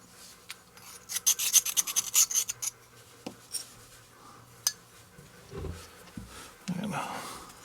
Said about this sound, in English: I'm going to get this whole thing stoned down just so that the burrs are all off of it